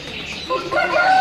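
A pigeon in a Kasur loft gives a brief throaty coo that rises in loudness over about a second, close by, with no voices.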